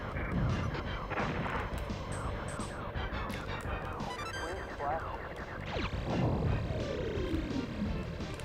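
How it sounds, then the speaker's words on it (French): Rapid double laser shots in Star Fox on the Super Nintendo, busy bursts of firing over game music and explosions, with someone talking throughout. "là j'ai upgradé mon tir en rafale, il est double, il est beaucoup plus puissant maintenant"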